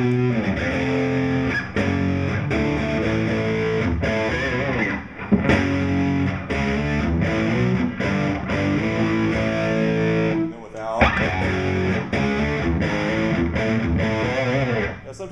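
Heavily distorted electric guitar run through a pedalboard, playing thick sustained chords and riffs loud and close, with brief pauses near five and eleven seconds.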